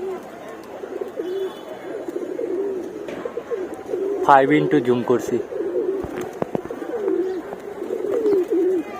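Pigeons in a loft coo softly and continuously, with a brief louder burst midway, while someone talks over them throughout.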